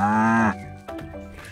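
A cow moos once in the farming video game Staxel, a long loud tonal bellow lasting about half a second, followed by soft low murmuring sounds.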